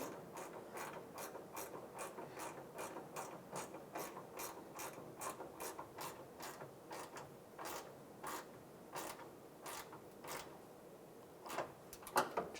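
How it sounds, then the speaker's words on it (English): A 10mm ratchet wrench snugs down a bolt while a 2007-2013 Chevrolet Silverado horn is replaced, giving steady rapid pawl clicks in short bursts, close and fairly quiet, with no voices. "take the 10mm ratchet wrench and we'll just snug this bolt down"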